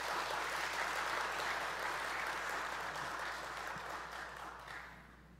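Forum audience in a Catholic diocese hall in Jeju applauding warmly to welcome the bishop to the stage, a full, steady wash of many hands clapping that holds strong and then gradually tapers off.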